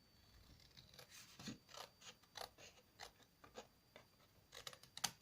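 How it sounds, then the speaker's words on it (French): Scissors snip through thin cardboard while a small shipping box is cut out, a series of quiet, separate rasping cuts about a second apart, close by, with no talking. "je prends ma paire de ciseaux"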